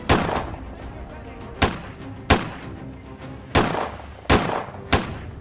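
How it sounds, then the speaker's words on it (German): Repeated gunshots fired in the Autobahn Polizei Simulator video game, about six sharp loud cracks spaced irregularly over several seconds above a steady game background. "Darf ich ihm nur in die Beine schießen"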